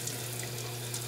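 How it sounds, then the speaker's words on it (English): A tap runs with strong water pressure at a glamping getaway, a steady and fairly close rushing stream with no talking. "See how that water pressure, y'all?"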